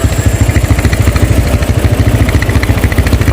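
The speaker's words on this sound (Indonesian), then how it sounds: "Seperti ini suaranya knalpot." Honda GL Max motorcycle exhaust fitted with an HM KG muffler, idling close up with a loud, steady, rapid thumping beat throughout.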